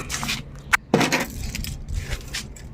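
A car key is pushed into the ignition of a Mitsubishi L300 van, with a brief metallic key jangle and click up close, followed by soft handling noises.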